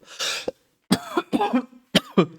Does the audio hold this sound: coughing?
yes